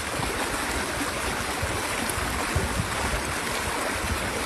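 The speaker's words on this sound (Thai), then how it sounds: "ก็คือข้างลำธารสวยงามครับ" A forest stream flows beside a house in rural Thailand, a steady broadband rush of running water that stays continuous and even throughout, with no talking.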